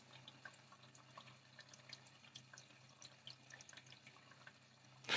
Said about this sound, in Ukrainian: Вода йде, якщо ви чуєте.